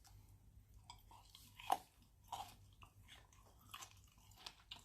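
Crunchy chicken gizzard being chewed close to the mouth, a few distinct crisp bites and crunches over a quiet background hum, with no talking.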